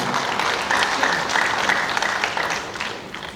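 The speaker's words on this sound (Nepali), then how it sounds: "हामीबाट अलिकति ताली पाउनुभएको छ" An audience at a speech by Nepal's Prime Minister KP Sharma Oli claps loudly and steadily, dense applause filling the room without a break.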